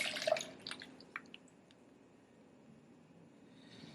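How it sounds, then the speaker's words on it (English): Soaking water drains from a jar of sprouting seeds at a kitchen sink, a few quick splashy trickles and drips at the start, then fading into quiet background hiss. "So we're going to drain that water."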